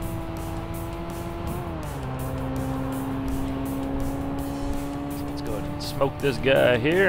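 A Nissan 180SX races in the Tokyo Xtreme Racer 3 video game, its engine holding a steady droning whine that dips as it shifts. Near the end it revs and warbles with a brief squeal, while someone talks over it throughout.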